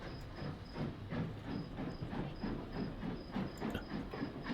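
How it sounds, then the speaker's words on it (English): An HO-scale model steam train pulls away with a soft, rhythmic chuffing hiss that repeats evenly at close range with no talking. "the train departed for the journey home"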